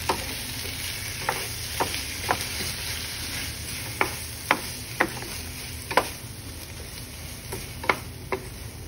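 Corned beef fries in a little oil in a pan, giving a steady close sizzle broken by sharp clicks and taps as it is stirred, without talk.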